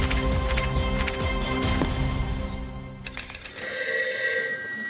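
A telephone rings for an incoming call, a steady repeating electronic ring filling the clip, with a brighter chiming tone joining near the end.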